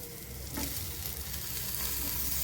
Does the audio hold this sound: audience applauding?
no